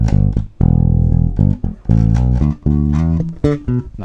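An electric bass guitar plays a short fill in a bass lick, with low, loud plucked notes in a quick, uneven rhythm, close and alone without any talking.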